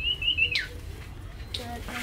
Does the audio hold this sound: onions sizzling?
no